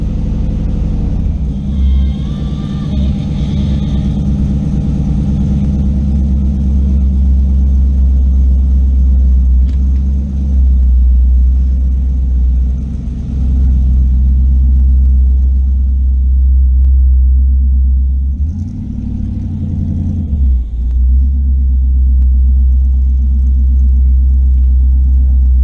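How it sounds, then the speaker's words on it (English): A race car engine cold-starts and settles into a loud, steady idle, its deep rumble continuous and close throughout with a brief dip and surge near the end. "Cold start."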